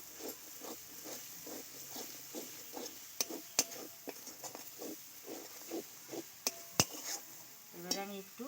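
Whisked yogurt and spice paste for a patal chingri curry is stirred in a pan. It sounds like quiet, rhythmic scraping strokes over a faint sizzle, with a few sharp utensil clinks against the pan.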